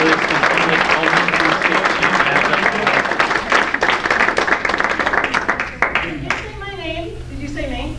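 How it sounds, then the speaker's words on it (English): Audience applause at a township council meeting, dense steady clapping from a room of people that tapers off after several seconds, with voices speaking as it fades. "Everybody's clapping."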